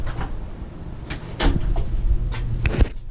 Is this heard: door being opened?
yes